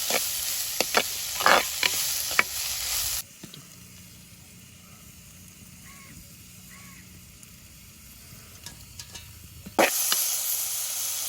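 Small onions sizzle and fry in a pan in a Jaffna village kitchen for potato patties, a loud hissing burst, then a quieter stretch of low bubbling with faint clinks, before the sizzle flares up again.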